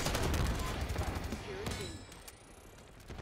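Rapid SMG gunfire in the Black Ops 6 multiplayer beta: dense automatic bursts that fade over a few seconds, with mechanical clatter and no talking.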